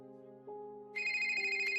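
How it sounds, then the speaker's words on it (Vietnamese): A phone ringtone from a room downstairs: a brief melodic electronic tune that leads into a bright, steady ring, faint and heard alone. "Ai đó, tắt điện thoại đi."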